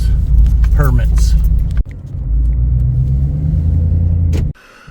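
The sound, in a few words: Department of Transportation inspector's car arriving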